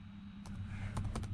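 A few quick keystrokes on a computer keyboard during HP Tuners setup for an LSA engine, light clicks close by over a low steady hum.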